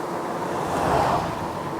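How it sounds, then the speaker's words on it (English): Gusting wind buffets the microphone outdoors beside a truck, a steady rushing roar that swells briefly in the middle, with no voices. "Man, we got some wind gusting."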